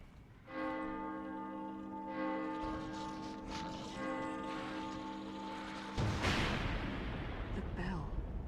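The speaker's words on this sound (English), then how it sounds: "The bell." A deep bell tolls within The Evil Within horror game, its long ringing tones sustaining and layered, then a sudden rumbling crash erupts near the end.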